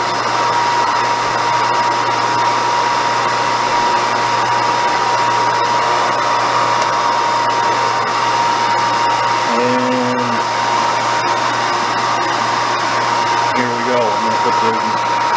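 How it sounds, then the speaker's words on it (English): The blower of a 1940 Revere Model 85 8mm movie projector runs with a steady, loud whirring hum and fixed tones throughout, a few brief higher warbling sounds appearing partway through. "I'm going to start the blower"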